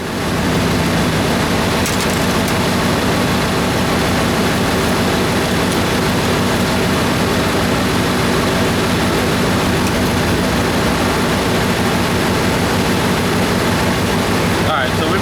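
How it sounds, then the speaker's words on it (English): A Dodge Ram 2500 pickup's engine runs continuously, a loud, steady low drone filling the whole stretch without letup. "I'm going to go ahead and start it back up, run through the gears one more time"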